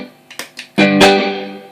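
Electric guitar played through a TC Electronic Hall of Fame reverb pedal set to a tone print: a few short plucked notes, then a loud sustained chord that rings out with a long, lush reverb tail, no talking.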